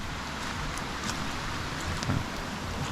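Steady rain falls at Collier Springs, a day-use picnic area with a picnic table, grill and small covered pavilion, as a continuous dense hiss with scattered louder patters and no voices.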